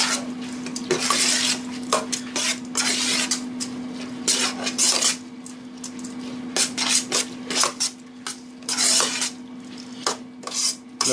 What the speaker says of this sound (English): I'm going to give that a little stir in the pan there, mix it all up